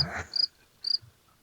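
Two short, bright cricket chirps sound alone, close and clear, with a brief low noise at the start and near-silence between the chirps.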